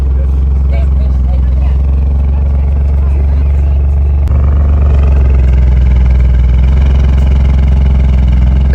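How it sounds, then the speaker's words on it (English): Alfa Romeo Stelvio QV with a Ferrari-sourced 2.9-litre turbocharged V6 idling at a motoring festival track: a deep, loud, steady rumbling burble with a brief blip midway, close by. "first up for me was the Alfa Romeo Stelvio QV. I mean, just listen to this thing on idle."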